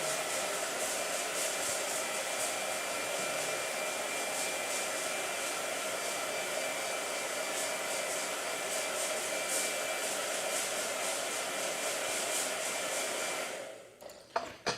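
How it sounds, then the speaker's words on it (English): A blow dryer runs at a steady, loud, continuous roar for most of the stretch, then cuts off abruptly near the end, leaving brief quiet handling sounds. "There's going to be a lot of blow dryer today."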